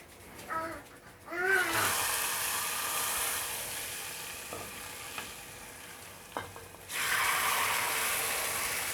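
Hot fried garlic tasha hits molokhia made with duck broth, setting off a loud, bright sizzle that surges, eases into a steady crackling fry with a few clinks, then flares up again at the end; no one speaks.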